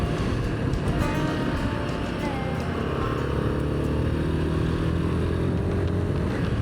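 Royal Enfield Himalayan 450 adventure motorcycle riding along a gravel road, a steady loud engine drone with continuous wind and tire rumble throughout, no distinct gear changes.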